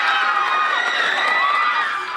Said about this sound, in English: Crowds cheered when Taylor's name was announced.